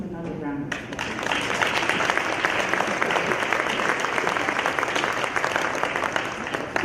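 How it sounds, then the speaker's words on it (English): Audience applause for schoolchildren at a school building dedication, beginning after a brief moment of talk and then holding as steady, dense clapping from a large crowd for several seconds. "Give them another round of applause."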